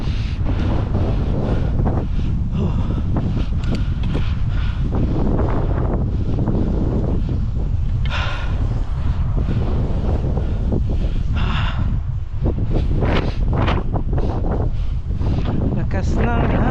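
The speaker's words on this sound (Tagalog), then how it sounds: "Lakas ng hangin." Strong wind roars and buffets the microphone without letup while biking in Canada, a heavy rushing noise with a voice faintly under it.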